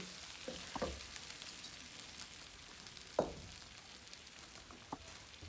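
Fish and spice paste frying in a pan, with a soft, low sizzle and a few scraping stirs and clacks at intervals, heard fairly faintly.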